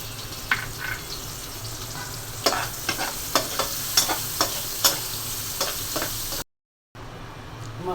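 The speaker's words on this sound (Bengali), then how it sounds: "মাছ ভাজা তেলের মধ্যে পেঁয়াজ দিয়ে দিচ্ছি।" Onions frying in oil left over from frying fish, a constant sizzle with a series of sharp scraping stirs at a steady pace, then a short silent cut before the sizzling resumes.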